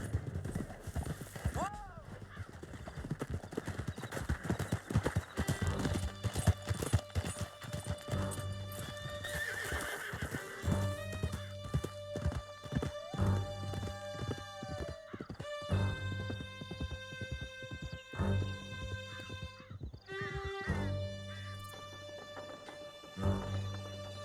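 Horse hooves clip-clop at a gallop through Red Dead Redemption 2, with a whinny early on, all under a continuous musical score and occasional game dialogue voices.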